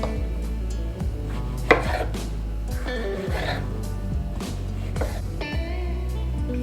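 A knife slices a tomato in half on a cutting board, giving a few soft cuts and taps near at hand over a steady background hum.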